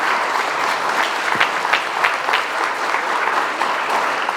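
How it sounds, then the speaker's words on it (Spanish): Loud, sustained applause from an audience following a keynote lecture on territorial development and artificial intelligence, dense crowd clapping with a few sharper individual claps standing out, no speech. "pedimos un fuerte aplauso por la conferencia magistral"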